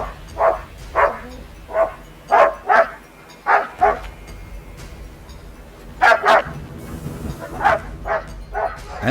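Several dogs at an isolated Arctic weather station on Hopen Island bark at a polar bear at night, sharp repeated barks in uneven bursts, some doubled, near and loud over a low rumbling background.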